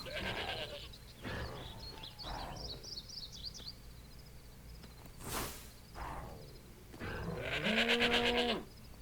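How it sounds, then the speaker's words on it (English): Sheep in Minecraft bleat in short, close cries scattered among quieter in-game ambience and other animal sounds, with a louder, drawn-out bleat near the end. "Yeah, that's a sheep."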